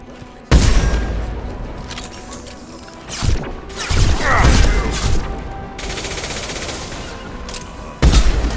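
Mass Effect 2 combat: sharp gunshots punctuate a loud, rumbling blast as unstable crates explode, followed by crashing debris and a lingering mechanical hum before another sudden shot near the end.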